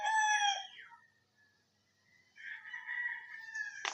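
An eight-month-old class A Firebird gamefowl stag crows twice, loud and close: a first call fading out by the one-second mark, then after a silent gap a second long crow that ends in a sharp burst.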